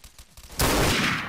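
A sniper rifle fires in the video game Garry's Mod, one sudden loud, close blast that rings out and sustains after a brief quieter lead-in.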